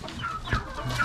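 Chicken clucking on a homestead where a black hen lays blue eggs, a few short close clucks and calls over about a second with low background noise.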